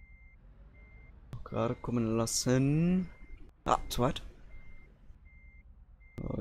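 A truck in Euro Truck Simulator 2 backs up with evenly spaced reversing beeps ticking away, while someone talks in German over the engine hum between the beeps.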